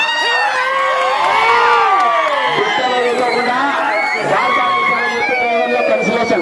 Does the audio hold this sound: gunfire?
no